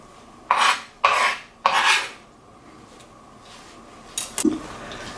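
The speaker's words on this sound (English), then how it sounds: "So I'm just giving it a second run through with my knife" A knife chops rosemary on a cutting board with three quick rasping strokes about half a second apart, followed by a pause and a couple of lighter knocks and scrapes.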